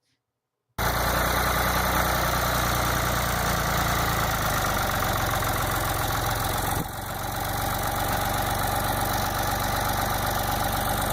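A Ford 445A backhoe engine starts up after a moment of silence and then runs at a steady, loud, low idle with a brief dip partway through, during a test drive.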